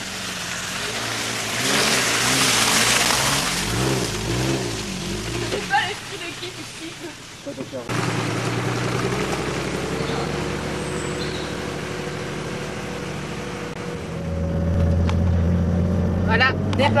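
A 4x4 off-road vehicle manoeuvring around a deep puddle during an off-road raid in Burgundy, its engine rumbling and revving at close range, with people talking over it throughout.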